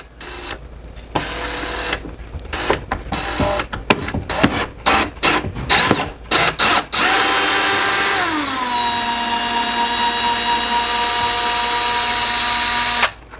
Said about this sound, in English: let me take these two screws out here, and then we'll come back and take those out as well